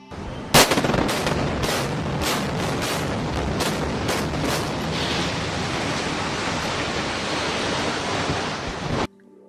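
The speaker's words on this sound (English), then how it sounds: "Now listen to a 14-story building being demolished using controlled demolition." Controlled demolition of a 14-story building: a loud opening blast followed by a rapid series of sharp explosive cracks, then a long roaring rumble of collapse that cuts off abruptly.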